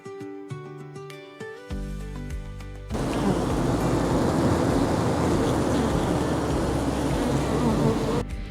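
Honey bees buzz steadily and loudly around beehives in South Australia, a dense close swarm drone that begins abruptly after a few seconds of plucked music and fills the rest of the clip.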